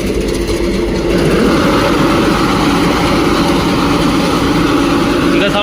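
A heavy 100 hp corn harvester engine runs nearby during maize harvesting, a loud, steady low rumble that swells slightly after the first second and holds.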